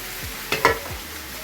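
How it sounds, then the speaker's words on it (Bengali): Pieces of rohu fish cook in hot oil with salt, turmeric and chilli spice, a soft sizzle underneath two quick scraping strokes of a spatula. "মাছগুলো রান্না করছি"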